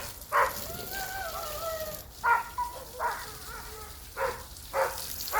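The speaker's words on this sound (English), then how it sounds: "Excuse the noise of the dog." A neighbouring dog barks in sharp single yaps and short whines at a distance, about five barks spread unevenly across a few seconds over a faint steady background hiss.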